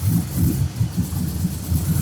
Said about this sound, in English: The engine is running.